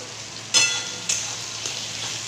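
Chicken curry being stirred in a pan just after salt goes in: three scraping swishes of a spatula over a continuous low sizzle, close and fairly loud, without speech.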